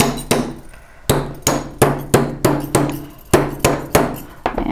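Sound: hammering metal bracelet flat on an anvil

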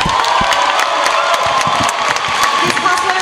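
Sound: crowd applauding and cheering at a cosplay contest

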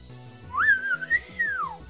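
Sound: Marshadow whistling as it faints, Pokemon Showdown video game

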